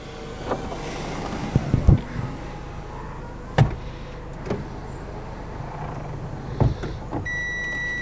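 The convertible roof of a 2007 NC Mazda MX-5 retracts with a steady mechanical whirring hum and several sharp clunks and clicks along the way, ending in a short electronic beep.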